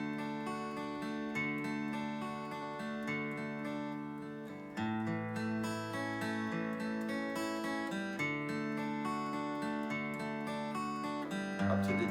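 Silent Night is played as arpeggios on a stringed instrument, with a gentle, even run of plucked notes rising and falling, heard alone and up close.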